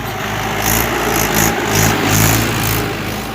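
A tractor engine runs steadily while ploughing a field before paddy planting, a continuous mid-pitched drone with a slight rise and fall in revs, close and fairly loud, with no voices.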